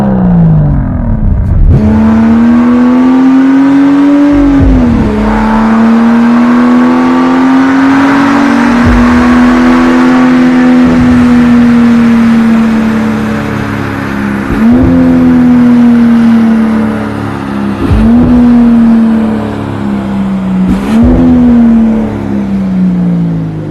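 Aston Martin Vanquish with its new 5.2-liter twin-turbo V12 revving hard, loud and close, the engine note climbing and dropping repeatedly in strong sustained pulls, with no voices over it.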